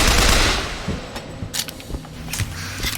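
Machine gun fire in Bioshock Infinite, a loud initial burst followed by scattered, uneven shots and clatter that trail off at moderate volume.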